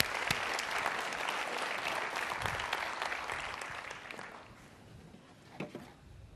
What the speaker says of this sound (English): Let's have a round of applause for whoever this is.